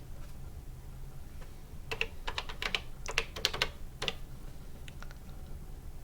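Bursts of keyboard typing, quick clicking keystrokes in a couple of short runs with pauses between, close by over a low steady hum.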